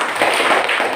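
Classroom audience applause after a group finishes its presentation in a Christian values lesson: a dense, steady patter of many hands clapping that fills the whole brief moment at close range.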